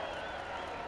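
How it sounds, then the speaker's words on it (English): A crowd at a street skateboarding rail event in Detroit applauds and cheers a backside Smith grind, a brief steady wash of clapping heard alone. "The crowd liked that one."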